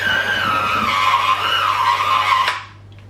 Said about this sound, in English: now I'm going to get the electric whisk, plug it in so we can mix this in